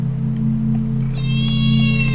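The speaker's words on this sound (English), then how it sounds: "There's a black cat there." A black cat in the Yume Nikki video game lets out a sustained, clear meow alone over a steady low electronic drone in the game's ambience.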